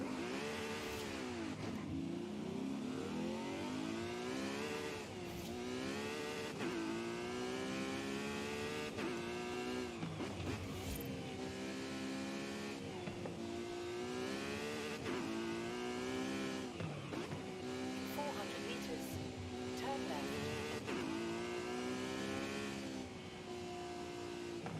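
A car in Forza Horizon 5 drives continuously with revving engine tones that climb and drop through gear changes, loud and steady throughout, with occasional tire squeal.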